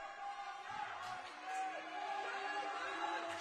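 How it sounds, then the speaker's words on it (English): Young England supporters in a stand at a partially sighted football match at the IBSA World Games 2023, cheering and whooping in a continuous moderate crowd din, with some nearby voices mixed in. "Down in the stand below us, cheering on."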